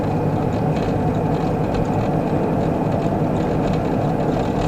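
A train rolls past close by on the rails near a level crossing, a steady loud rumble and rush of wheels and cars holding through the whole stretch without a break.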